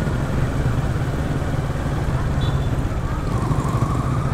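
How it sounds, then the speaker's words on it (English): A 2018 Kawasaki Ninja 650 runs steadily at close range, a dense, even engine drone that holds constant throughout with no clear revving, joined briefly by a faint higher tone. "2018 Kawasaki Ninja 650"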